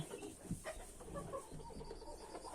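Hens cluck in a coop, several soft, close clucks and low calls that overlap in a quiet, uneven stream.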